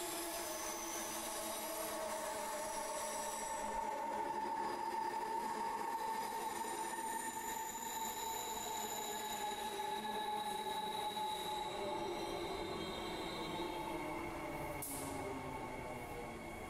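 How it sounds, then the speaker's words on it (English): A subway train rumbles and screeches steadily as it curves through a tunnel into Elizabeth Quay Station, with sustained high metallic wheel squeal over a continuous loud roar. "a train's arriving in right now. It's very noisy here as it curves around in the tunnel"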